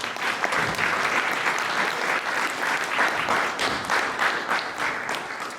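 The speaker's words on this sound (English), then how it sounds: "So we're going to give him a round of applause" A full round of applause from a banquet audience at a school athletics awards night, dense steady clapping that fills the room at a strong level throughout.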